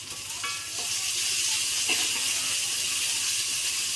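Sliced onion and green chilies sizzling steadily in hot oil in a pan for a beef fry, a loud continuous hiss with faint stirring clinks.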